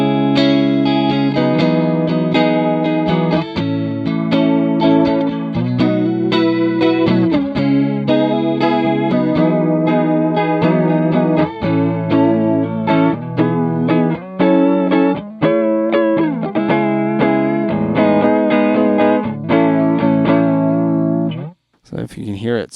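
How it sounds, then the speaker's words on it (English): Electric guitar chords play through a Chase Bliss Warped Vinyl vibrato chorus pedal as it slowly sweeps from a clean tone into wobbling vibrato, loud and sustained throughout, before a brief drop at the end. "so it'll go from clean guitar into all the way into vibrato territory"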